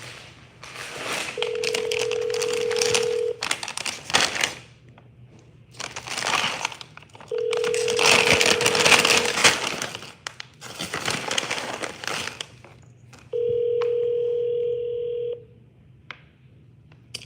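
A phone call is placed and rings out unanswered, with three long electronic tones separated by bursts of crackly, crinkling noise.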